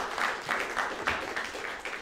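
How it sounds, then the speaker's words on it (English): Applause from a crowd, steady clapping with a few swells, fairly loud and continuous for a couple of seconds. "Round of applause,"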